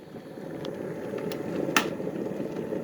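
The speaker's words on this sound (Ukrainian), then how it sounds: "І чекаю чайник, щоб він закипів." A quiet, steady rushing hiss of water heating in an electric kettle, slowly building, with a few faint clicks and one brief tick near the end.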